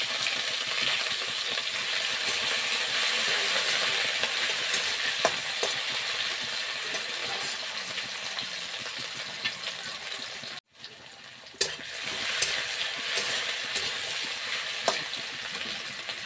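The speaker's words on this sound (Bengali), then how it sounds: "আলুটা অল্প ভাজা ভাজা হয়ে গেছে।" Steady, loud sizzling of potatoes frying in oil, briefly interrupted by a short silence before the crackle resumes, with occasional light clinks of a utensil.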